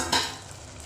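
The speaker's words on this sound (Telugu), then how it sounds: "అట్లా మసాలా అంతా పచ్చివాసన పోయేదాకా కలబెట్టాలా" Masala for Andhra mutton curry stirred and frying in a pan, a brief scrape of the spoon followed by a soft steady sizzle, heard close with no talk.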